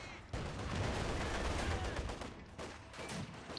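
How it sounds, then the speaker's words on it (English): 82mm mortar fire and blasts in the Company of Heroes 2 strategy game, heard as dense, rumbling explosions and crackling fire filling the mix, loud and continuous with a few sharper impacts near the end. "coming under fire though from the 82mm mortar, and oh dear, direct hit, full wipe"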